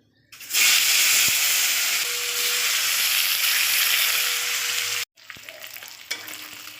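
Salt and turmeric coated eel fish dropped into hot white oil in a kadai erupt in a loud, continuous sizzle that holds steady for several seconds, then cuts off abruptly and returns as a softer crackling fry.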